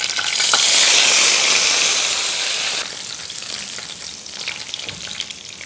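Curry leaves, mint with stems, chopped ginger and five whole red chillies dropped together into hot oil for dhaba-style chana dal fry, bursting into a loud spitting sizzle that eases into a quieter steady fry, no voices.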